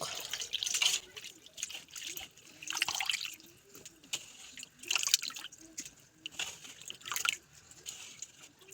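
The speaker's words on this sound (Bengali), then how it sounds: "এটাকে আমি আবার জল দিয়ে ভালো করে ধুয়ে নেব এই যে দেখো এরকম করে হাতের সাহায্যে ভালো করে ধুয়ে নেবে" Handmade wheat-flour noodles being rinsed by hand in water, with repeated bursts of splashing and sloshing about every two seconds, close and moderately loud, separated by quieter dripping.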